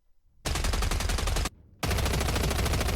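The medic's SMG in Killing Floor 3 fires two sustained automatic bursts, about a second and over a second long, separated by a short gap, loud and rapid.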